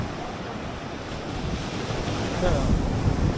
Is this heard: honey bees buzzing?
no